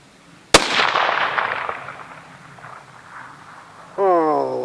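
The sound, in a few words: gunshot from Winchester Model 43 rifle in .218 Bee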